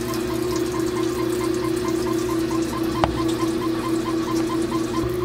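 An LG high-efficiency top-loading washer spinning hard and draining water: a steady mechanical whir and pump hum with a faint pulsing rhythm and gushing water underneath, close and constant, with one brief knock near the middle.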